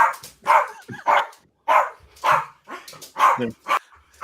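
A dog barks close and loud in a run of about nine sharp, evenly spaced barks, with short pauses between them and no talking.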